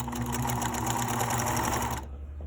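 A sewing machine stitches fabric in a close, rapid, steady mechanical whir for two seconds, then stops abruptly, leaving a quiet room.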